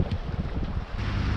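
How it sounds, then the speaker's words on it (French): A sailboat moves under sail near Bandol in steady wind, with continuous rushing wind and water noise and low buffeting against the microphone, no voices. "J'adore ça de finir sous voile comme ça."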